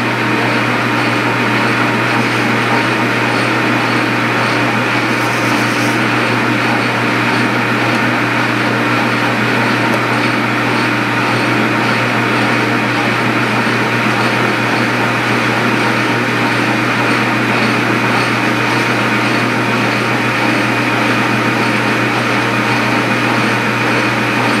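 A machine tool drills and reams a 0.1875 inch hole in a spool valve engine part, giving a constant loud whine and hum that holds steady for the whole stretch, with no talk.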